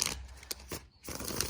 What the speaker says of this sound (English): I have a little hard time back shuffling on this one.